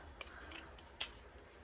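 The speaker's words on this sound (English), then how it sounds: "using fabric scissors because regular scissors just doesn't cut as nice" Quiet, close snips of fabric scissors cutting through felt, a few soft crisp crunches spaced irregularly over low room noise.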